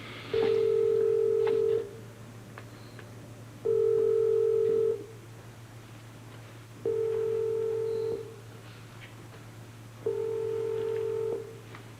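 Four long, steady telephone tones sound at regular intervals with short silent gaps between them, heard through a handset during a 1988 soap opera scene.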